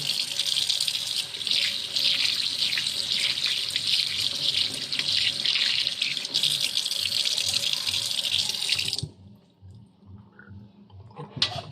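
Tap water runs steadily into a sink while food is washed under it, the gush rattling close by for about nine seconds before the flow cuts off and only faint handling sounds remain.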